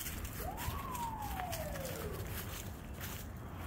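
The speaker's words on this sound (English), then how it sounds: "Just heard an ambulance." A distant ambulance siren sweeps faintly once, rising then slowly falling, over a steady background rumble outdoors.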